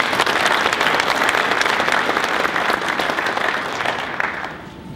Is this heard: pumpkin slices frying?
no